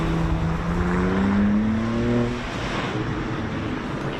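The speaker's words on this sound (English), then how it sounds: "Revs rising" A BMW rally car on the start line of the Strathalbyn town stage revs hard and pulls away, its engine note climbing steadily before easing into a sustained drone as it accelerates off.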